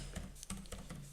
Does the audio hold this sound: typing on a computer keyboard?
yes